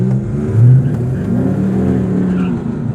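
A Dodge Charger in the drag racing lanes revs hard during a burnout attempt, its loud engine surging in a sustained roar with one brief swell early on, close and alone.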